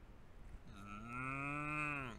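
A voice imitating a cow gives one long, drawn-out low moo that swells and holds steady, alone and fairly close.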